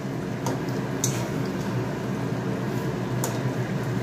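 Potatoes boil in a pot on a gas stove, giving a steady low bubbling hiss with a few faint clicks and taps over it and no voices.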